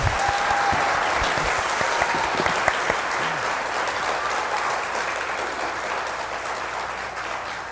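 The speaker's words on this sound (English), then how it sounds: "You can clap now." A crowd at a mayoral business debate applauds steadily and loudly, dense clapping holding at an even level for several seconds before easing slightly at the end.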